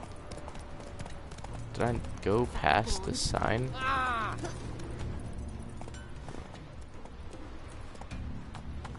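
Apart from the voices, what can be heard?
horse hooves walking in video game Witcher 3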